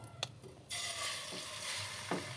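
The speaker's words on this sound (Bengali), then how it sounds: "কড়াইতে তেল দিয়ে দিয়েছি তেলটা গরম হয়ে গেছে আবার এই ডিমটাকে আমি এইভাবে দিয়ে দেব" Beaten egg poured into hot oil in a kadai for an egg roll: a short stirring scrape, then a sudden broad sizzle that swells and holds steadily, faint and close with no voices.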